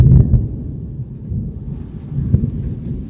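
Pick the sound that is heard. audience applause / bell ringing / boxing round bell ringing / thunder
thunder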